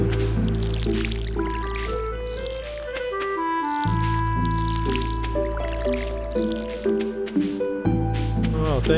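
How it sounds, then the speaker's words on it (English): In the game Stardew Valley, water is poured in with a short squishy, dripping splash. It sits under steady game music. "Put the water in."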